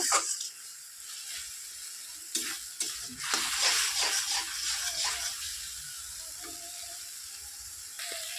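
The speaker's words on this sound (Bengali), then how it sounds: "তো দেখো আমার সর্ষাটা ভালো করে কষা কষা হয়ে যাচ্ছে ভালো করে কষিয়ে নিচ্ছি" Mustard masala with green chillies being sautéed in a pan with little oil, heard as soft sizzling and scraping stirs with intermittent clatter, close and fairly quiet, with no voices.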